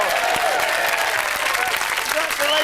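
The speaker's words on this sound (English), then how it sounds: "Whoa, give a round of applause." Studio audience applause on a 1991 home-video clip show, dense continuous clapping throughout with a faint voice mixed in.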